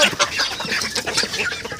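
A flock of chickens and chicks clucks and peeps busily while being fed, with overlapping bird calls close by and no voices heard.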